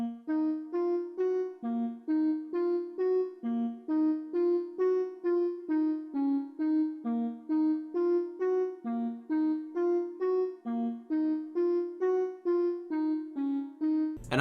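A bouncy plugg-style synth lead made of a saw preset layered with a bend saw preset in FL Studio, repeating a steady rhythmic pattern of short bright notes with pitch glides throughout, no talking.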